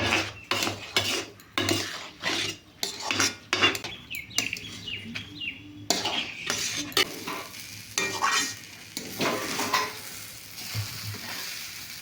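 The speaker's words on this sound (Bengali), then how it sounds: "সেটাকে এই চালের সাথে মিলিয়ে ভালোভাবে ভেজে নিচ্ছি" Rice and lentils for a mixed vegetable khichuri fry in a pot as a spoon stirs them, giving repeated metallic scrapes and clinks in irregular bursts over a soft, steady sizzle, close and clear with no talking.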